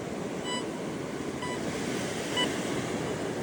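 An XP Deus II metal detector with an HF2 coil, set to beach multi-processing, gives three faint, evenly spaced high beeps of proximity tone over a constant roar of surf and wind on a beach.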